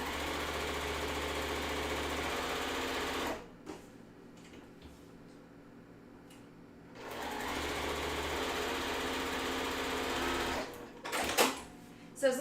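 An electric sewing machine stitches quilt block pieces in a steady, buzzing motor run, stops for a few seconds, then resumes at full speed before a few short bursts, with a voice faintly in the background.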